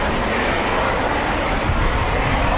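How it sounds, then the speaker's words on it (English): Eurofighter Typhoon jets with EJ200 engines roar overhead at a royal birthday parade flypast, a loud, steady broadband rumble filling the air without a break. "EJ200 engines, here we go. That's what you can hear in the background."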